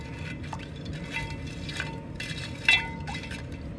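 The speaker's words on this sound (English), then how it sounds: "We'll give it a little stir." Gold flakes are stirred in liquid inside a glass container, giving faint swishing and light clinking, with one sharper glassy tap near the end, all quiet and close.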